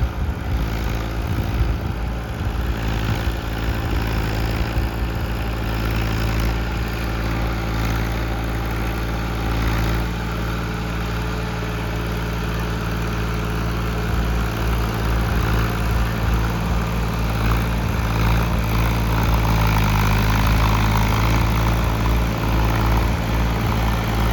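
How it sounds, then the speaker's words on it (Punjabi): A tractor pulling tines and a leveling drag across a farm field runs at a steady, loud, continuous drone for the whole stretch, with no voices. "ਖਾਲੀ ਟਰੈਕਟਰ ਨਹੀਂ ਤੁਰ ਰਿਹਾ ਬਾਈ ਖੇਤ ਦੇ ਵਿੱਚ"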